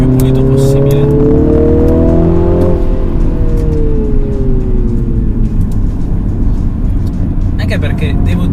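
A 2020 MINI John Cooper Works GP is driven hard around a race track, its engine loud and close, rising through revs, dropping on a shift and climbing again.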